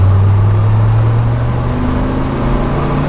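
A 1994 Dodge Viper RT10 engine pulls hard in third gear from about 40, its deep, loud drone climbing steadily in pitch throughout without any break or voice.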